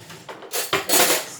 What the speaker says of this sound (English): Let me just grab a spoon.